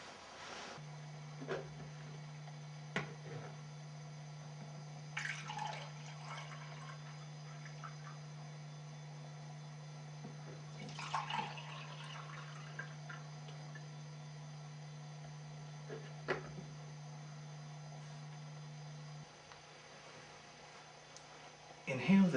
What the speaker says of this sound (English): Then pour the wine.